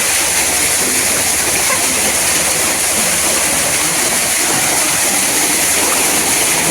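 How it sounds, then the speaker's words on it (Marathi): Water flows below a high vantage point outdoors, rushing in a steady, loud, continuous roar like a stream or small waterfall, with no talk over it. "खाली किती खोल आहे रे पाणी"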